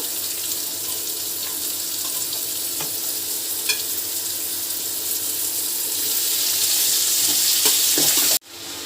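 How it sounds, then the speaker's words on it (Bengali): Snake gourd and potato with browned onion sizzle steadily in a pan, a continuous hiss with occasional small clicks and a brief sharp break near the end. "তো এখন আমি চিচিঙ্গা দিয়ে দেব। চিচিঙ্গার সাথে একটা আলুও দিয়েছি আমি।"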